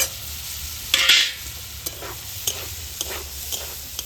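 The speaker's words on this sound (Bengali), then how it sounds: "ছোলাটা কিছুক্ষণ ভেজে নিয়েছি এবারে ভেজে রাখা আলু দিয়ে দিলাম" Fried potatoes and chickpeas stirred in a frying pan: a low, steady sizzle with a burst of hiss near the start, then a spatula scraping at regular intervals, close and with no voices.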